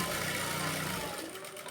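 A sewing machine runs steadily while stitching a blouse sleeve, a close mechanical whir that slows and fades out near the end.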